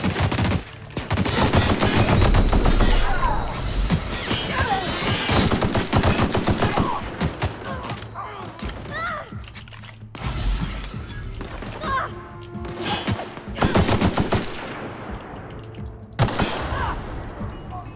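Heavy machine gun fire in The Outer Worlds rattles in long, loud, rapid bursts with crashing impacts, pausing briefly before more volleys and trailing into scattered shots.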